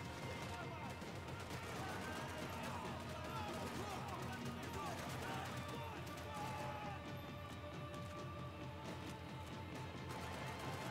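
Enemy gunfire in the video game Max Payne 3, scattered shots and crashing impacts repeating through the whole stretch at low volume, with someone talking over the action.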